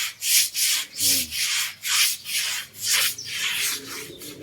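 An elephant being scrubbed during a midday bath on a cold day, heard as loud, close, rhythmic rubbing strokes in even bursts about every half second, with no talk over them.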